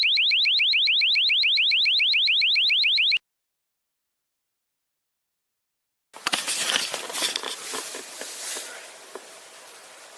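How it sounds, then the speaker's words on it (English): A camper van alarm shrieks in a fast, loud, rapidly pulsing electronic warble for about three seconds, then cuts to silence. Rustling and knocking noises follow. "But the alarm went off and I think it scared him off."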